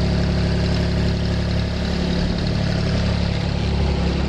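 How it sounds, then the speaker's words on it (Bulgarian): A car engine idles steadily after being parked in Pomorie, Bulgaria, a loud, close, continuous hum with a slight rise in the middle and no voices. "Да изключим двигателя все пак."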